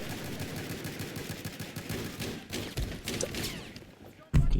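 Rapid gunfire crackles through a Battlefield video game match, with quick overlapping shots under other game noise and a louder thump at the very end.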